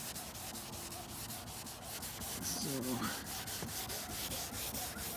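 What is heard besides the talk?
rubbing polish onto 2005 Volvo XC90 headlight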